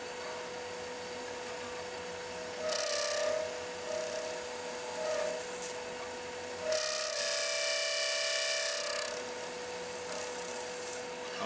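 Skew chisel cutting a snakeskin acrylic pen blank on a spinning lathe, a steady motor hum with two longer bursts of scraping, hissing cuts, close and continuous with no talk.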